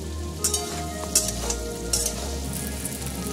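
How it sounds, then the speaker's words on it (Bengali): Partly softened potatoes fry in a pan with a steady sizzle, broken by several bursts of scraping as they are stirred, over a low hum. "আলুটা আমি পুরো লাল করে ভেজে নেবো।"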